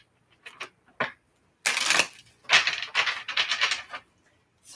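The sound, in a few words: shuffling tarot cards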